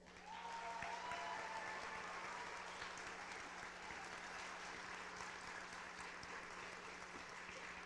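An audience at a high school honors night gives a sustained, even round of applause that holds steady throughout, heard from a slight distance.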